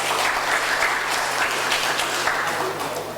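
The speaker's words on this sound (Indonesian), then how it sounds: "Tepuk tanganlah dulu untuk kita semua" Applause at a regional government grant agreement signing ceremony in Kotawaringin Barat, a steady wash of many hands clapping that fills the room and fades slightly at the end, with a low hum underneath.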